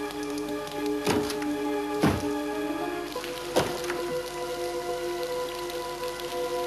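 Steady rain patters on a roof, with a few louder drops thudding close by against a constant hum.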